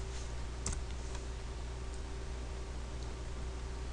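A command is typed on a computer keyboard, with a few faint, sparse keystroke clicks over a steady electrical hum.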